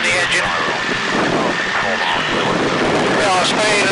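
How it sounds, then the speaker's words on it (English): A de Havilland Tiger Moth biplane engine runs at full power in flight, a loud steady droning roar mixed with wind rush, with a voice speaking over it in the open cockpit. "we need to build up a little bit of energy in the Tiger Moth, so we'll go to full power"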